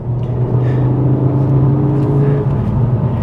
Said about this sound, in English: You can hear that 5-cylinder rumble,